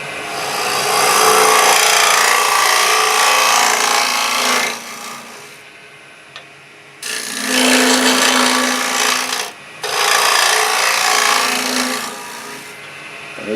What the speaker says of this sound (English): it's just a matter of going in with that scraper